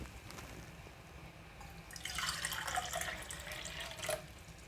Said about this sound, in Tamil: 2 கப் சீனிக்கு இதே கப்பால் 2 கப் தண்ணி சேர்த்துக்கொள்ளுவோம்.